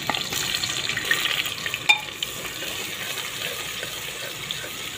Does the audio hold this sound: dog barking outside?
no